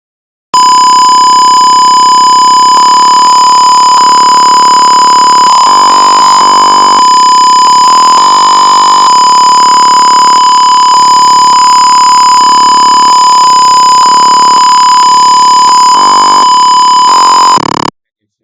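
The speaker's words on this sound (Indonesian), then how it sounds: "Pas dia akan bunyi untuk buzzernya karena suhunya terlalu tinggi, melebihi 30 derajat Celcius." A temperature alarm buzzer in an IoT sensor circuit sounds continuously after the temperature passes 30 degrees Celsius, a loud, steady, piercing electronic tone lasting nearly the whole stretch with slight wavering.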